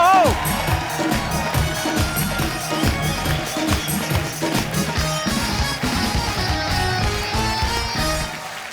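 Studio audience on The Kapil Sharma Show cheering and applauding as guest Sunil Pal arrives: loud, lively crowd noise with whoops and clapping under music and voices, easing slightly toward the end.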